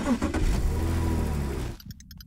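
A video game car engine drones steadily at moderate loudness for nearly two seconds, then cuts out abruptly, leaving a few short synthetic blips.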